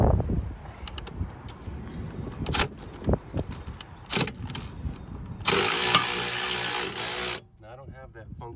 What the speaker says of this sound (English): I'm gonna go ahead and get this nut off on the back side of it